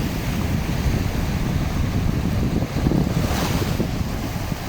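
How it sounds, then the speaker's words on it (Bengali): Sea waves roll continuously at Al Jassasiya beach in Qatar, a dense steady wash of surf mixed with buffeting wind noise on the microphone, with a slight swell in the middle. "এত ঢেউ আজকে আমার খুবই ভালো লাগছে যে ঢেউগুলো দেখা।"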